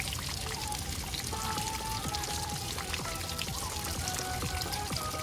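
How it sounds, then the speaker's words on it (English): Water is poured onto a Mivi Roam Bluetooth speaker, a steady splashing trickle and patter close by, with the speaker's own tones faintly playing underneath throughout. "So as you can see, the speaker is getting wet now."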